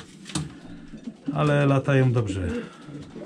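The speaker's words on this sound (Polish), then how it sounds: "to są takie gołębie większe" Larger domestic racing pigeons at a breeder's loft coo in a short, low, throaty burst close by, under a man's speech.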